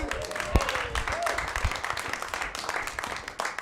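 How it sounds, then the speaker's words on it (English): A comedy show's studio audience claps in a dense, continuous burst close by, with a few sharp individual claps standing out and voices mixed in underneath. "So clap it up, have fun."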